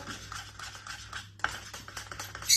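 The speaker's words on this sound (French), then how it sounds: "je mélange pour que les épices se mettent bien dans la crème" Spoon scraping and clinking against a dish while spices are stirred into thick crème fraîche for chorizo baked eggs, steady soft scraping strokes close by with a sharper clink near the end, no talking.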